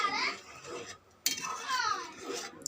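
A spoon scrapes and clinks against a cooking pot as curry with lentil dumplings is stirred, in two short bursts separated by a brief pause.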